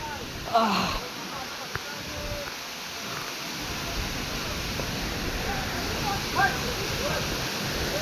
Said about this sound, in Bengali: ভাই বর্ষার সময় একটু বলে এত সুন্দর ঝর্ণাটা পাওয়া যায়।